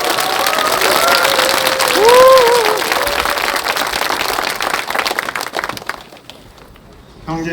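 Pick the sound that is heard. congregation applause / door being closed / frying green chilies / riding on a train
congregation applause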